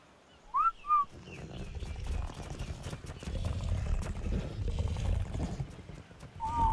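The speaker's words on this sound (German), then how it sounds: "Und auf neutral pfeifen." Inside the ARK: Survival Evolved game, a short two-note whistle command rings out clearly near the start, and a second whistle follows at the end over low rumbling game ambience.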